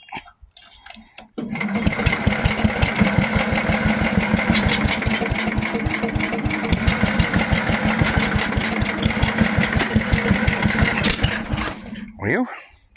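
Old homestead tractor on a cold morning, its engine catching after a few cranks and then chugging at a loud, rapid, uneven idle for about ten seconds before cutting off, with someone talking briefly before it starts.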